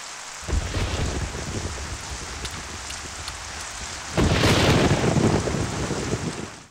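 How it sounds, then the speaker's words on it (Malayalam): A thunderstorm with heavy rain outside: a dense, steady roar of rain on surfaces, with a low rumble of thunder swelling louder in the second half. No voices are heard. "പുറത്ത് നല്ല ഇടിയും മഴയാണല്ലോ."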